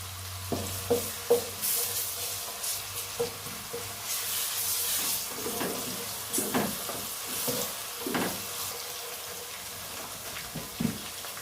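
Whole spices such as cloves, black peppercorns and green cardamom with ginger garlic paste sizzle in a pot for matar pulao, a steady frying hiss with scattered stirring scrapes and pops close by, no talking.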